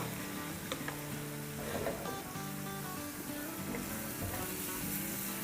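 Garlic sautés in oil in a pan, a soft continuous sizzle and crackle with faint stirring, quiet and close, with no voices.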